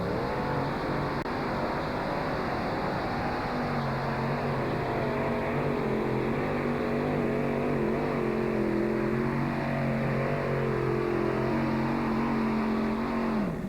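A racing vehicle's engine held at hard throttle during a race run at Tomah, a loud continuous roar with a sustained droning tone that rises slightly and then drops off near the end, no talking.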